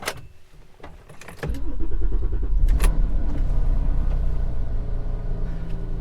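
A 2009 Porsche 911 Carrera S (997.2) engine cold-starts: a few clicks and a cranking burst, then the engine catches and settles into a loud, steady, deep idle rumble that holds to the end.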